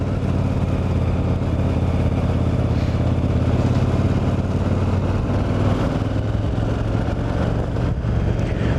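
A motorcycle engine runs steadily nearby with a low, even throbbing and a slight rattle underneath, holding a constant level throughout without revving up.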